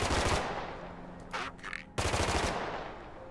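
Bursts of automatic gunfire from the survival video game The Last Haven: a loud rapid rattle at the start, a brief gap with a few lighter sounds, then another sustained burst, close and dominant.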